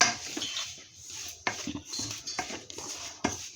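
A spoon scrapes and knocks against an Amway Queen pan as besan laddu mixture is stirred off the heat. Rhythmic metallic strokes repeat about once a second, close and clear, with no talk.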